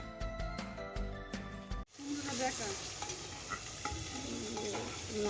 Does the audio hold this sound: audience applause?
no